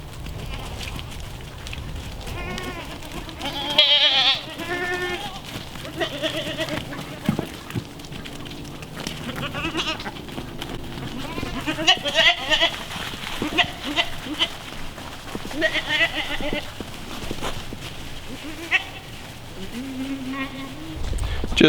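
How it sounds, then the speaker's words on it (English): Goats on a homestead bleat repeatedly, some close and loud, others farther off, in scattered calls throughout while a person talks intermittently. "Come on, goats."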